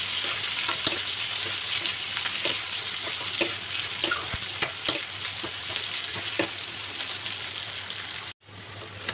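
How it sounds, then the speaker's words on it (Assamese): Onions frying in a pan for chicken biryani, a continuous loud sizzle and hiss with scattered pops and the scrape of stirring, cutting out briefly near the end. "পিঁয়াজখিনি ৰঙা হোৱালৈকে ভাজিম"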